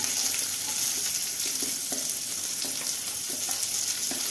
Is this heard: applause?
no